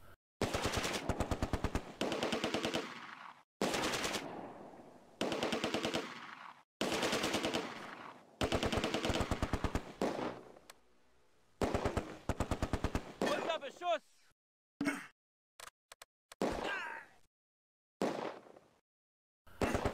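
Vickers machine gun fire in the Close Combat game, WWII Arnhem setting: repeated long automatic bursts separated by short pauses, loud and close, with a few shorter bursts toward the end.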